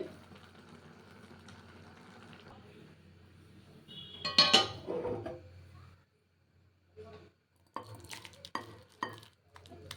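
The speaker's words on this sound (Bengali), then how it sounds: "তো এটাকে এখন একটা বাটির মধ্যে ঢেলে নিই আগে" Zuluk-style Maggi noodles from East Sikkim being tipped from a pan into a bowl: a short scraping, sloshing burst, then scattered clinks of metal utensils against cookware in a quiet kitchen.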